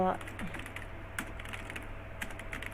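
Paragraph text being typed into an HTML document on a computer keyboard: soft, fairly steady key clicks, close by, over a low hum, with a brief bit of voice at the start.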